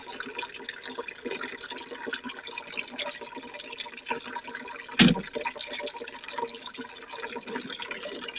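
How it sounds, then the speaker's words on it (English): Continuous trickling and splashing of water running over rocks in a homemade decorative fountain built from an old hand pump, steady and close, with one brief sharper knock midway. "The water that goes over the rocks is what people like to hear."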